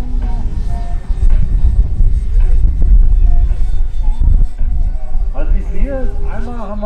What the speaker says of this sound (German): Einmal haben wir ein Flugzeug, der schwarze mit zwei Elektromotoren hat, Antriebe, zwei Pops.